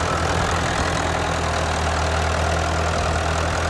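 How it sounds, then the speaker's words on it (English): An old two-speed tractor engine idles with a steady, continuous rumble, loud and close, with no other sounds. "Love it, old tractor."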